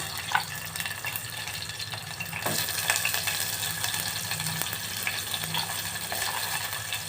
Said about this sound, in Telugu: ఇందులో మిగతావి ఆనియన్స్ ఆ మెంతం కూర కొత్తిమీర కూడా ఇందులో వేసేసుకుందాము